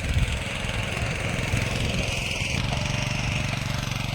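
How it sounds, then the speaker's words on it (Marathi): A steady, rumbling tractor engine drones throughout while working a field, loud and close, with a constant low throb and no pauses. "आता आम्ही आमच्या शेताचं हे बघा ट्रॅक्टरने बेर काढायला सुरुवात केली"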